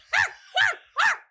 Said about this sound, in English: This dog is barking, and it's not like a low bark.